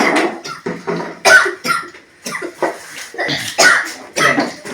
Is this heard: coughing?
yes